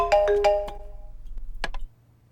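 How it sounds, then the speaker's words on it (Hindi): A mobile phone ringtone plays a bright electronic melody of several ringing tones, close and loud over a low hum, followed by two short chimes before it stops. "तुम्हारा फोन रिंग हो रहा है नहीं, ये चेक करने आए हैं बेटा"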